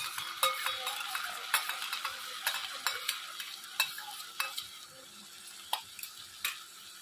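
Sauce mixture of vinegar, soy sauce and chili sauce being stirred into street-style chicken chow mein in a pan, with repeated sharp scraping and clinking strokes over a light sizzle, close and steady.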